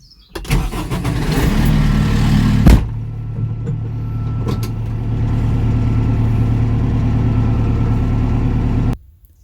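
A Kubota M4062 66 horsepower tractor, about 2.5 tons, towing a 6-ton digger on a trailer: a loud, steady diesel drone runs close and continuous, with a brief knock partway through, before it cuts out near the end.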